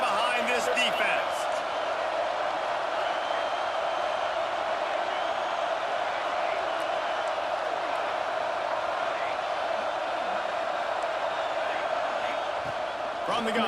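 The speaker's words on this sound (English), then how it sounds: "Big third down as the crowd gets behind this defense." A football stadium crowd roars to cheer on the defense on a big third down, a dense, steady wall of noise that lasts throughout, with some brief sharp accents near the start.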